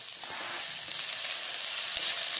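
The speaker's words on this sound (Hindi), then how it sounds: "शिमला मिर्च भी मैं थोड़ा सा भून दूंगी" Capsicum frying in a pan over a low flame gives a steady, even sizzle, a close continuous hiss with occasional faint stirring taps and no voices.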